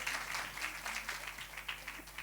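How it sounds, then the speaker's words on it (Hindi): Audience applause for dance performers at a school annual day celebration, a steady wash of many hands clapping at moderate distance, continuous throughout without talk. "तालियों के साथ, तालियों की गड़गड़ाहट होनी चाहिए"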